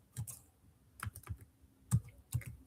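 Python code being typed on a computer keyboard, a few close, crisp keystrokes in irregular small bursts, with no talking.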